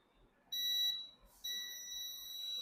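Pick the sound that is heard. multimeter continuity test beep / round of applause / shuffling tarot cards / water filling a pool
multimeter continuity test beep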